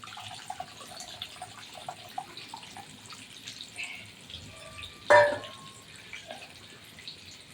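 Water is poured into a pot of fish curry, a soft continuous trickle and splash with faint drips, broken by one brief, sharper clink partway through.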